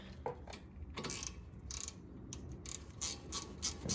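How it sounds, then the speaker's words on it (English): A hand wrench ratchets as the brake caliper bolts are tightened on an Acura RSX, its quick clicking bursts close and fairly quiet, coming in short runs with brief pauses. "Grab your wrench"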